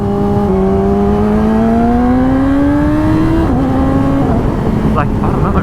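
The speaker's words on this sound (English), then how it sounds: "the quick shifter on this sounds so crispy, sounds so good and snappy" A 2019 Yamaha R6 motorcycle engine winds up in a loud, rising whine, then the quick shifter snaps through a gear change with a brief dip in pitch before it climbs again.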